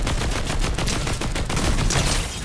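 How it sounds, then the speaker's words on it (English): Gunfire in a first-person shooter game, a dense continuous stream of loud shots at close range with no pauses, heard alone without talk. "Why does this thing have such a low fire rate?"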